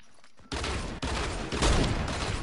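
Loud bursts of Fortnite video game gunfire crack out in quick succession, several shots overlapping into a sustained volley.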